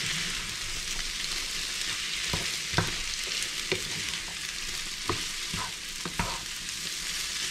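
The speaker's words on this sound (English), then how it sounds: "Stir it around one more time." Pasta with beans stirred in a hot pot, a soft steady sizzle broken by several distinct knocks and scrapes of the spoon against the pot, fairly quiet and with no voices.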